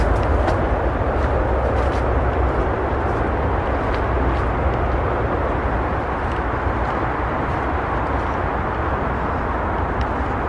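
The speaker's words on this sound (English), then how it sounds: "Again, you can hear the motorway in the background" Distant motorway traffic gives a steady broadband roar that carries into a garden in August, continuous and unbroken throughout with no voices over it.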